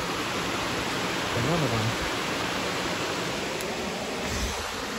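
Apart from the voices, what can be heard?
waterfall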